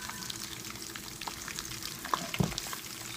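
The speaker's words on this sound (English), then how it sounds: "So it's finished frying." Goat meat for sos kabrit frying in a pot, a steady close sizzle and crackle with light stirring scrapes and a few louder pops near the end.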